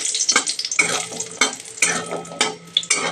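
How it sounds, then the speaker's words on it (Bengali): Lentil vadi (bori) frying in oil in a wok, with bright sizzling bursts and the scrape and clink of a spatula stirring in an irregular rhythm, close and fairly loud with no talking. "বড়িটাকে ভালো করে ভেজে নেব"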